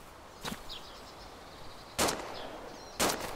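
Three separate gunshots ring out in DayZ Standalone near an airfield, each a sharp crack striking a wall, spaced unevenly over a few seconds against quiet outdoor ambience with faint bird chirps.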